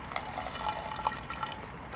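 Vinegar poured from a bottle for a homemade chemical rocket, a faint trickling, dripping liquid sound lasting a couple of seconds.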